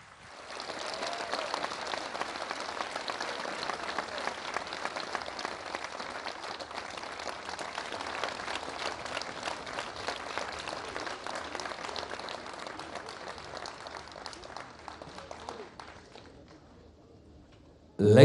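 Sustained crowd applause at an outdoor welcome event in Kogelo village, Kenya, a steady dense patter of many hands holding at even loudness for about fifteen seconds before fading away.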